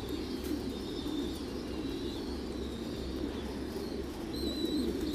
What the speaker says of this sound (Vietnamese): những cái cặp chim bồ câu Thái siêu thịt ở trại mình trông rất là đẹp